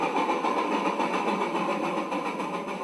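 A cartoon steam engine puffing away, a steady rapid chuffing rhythm over a continuous mechanical hum, loud and close without any speech.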